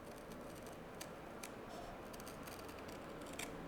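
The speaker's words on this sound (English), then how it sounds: "So I just take a scissors on the curves and take off as little as possible" Scissors trimming the curved edge of a leather footbed for a mule or slide, producing faint, sparse snipping clicks close by over a steady background hiss, with no talking.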